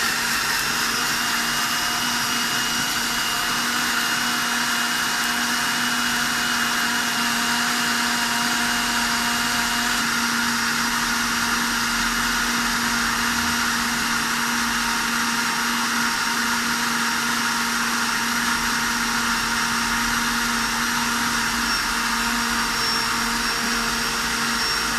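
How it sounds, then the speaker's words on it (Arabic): An electric blender whirs at a constant high pitch, a loud unbroken motor drone grinding steadily for the whole stretch with no talking. "اذا غنطحنوا هاد المكونات في الخلاط الكهربائي جيدا"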